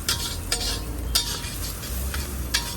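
Capsicum is sautéed in a pan for moong pulao, a continuous close sizzle broken by regular scraping strokes of a spoon stirring the pieces.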